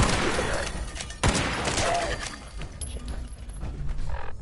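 Dense gunfire in Fallout 76, with a rapid run of close, loud shots and a sharp louder crack midway, continuing over steady noise with a voice speaking.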